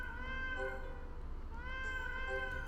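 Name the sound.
Norwegian forest cat meowing, from a video game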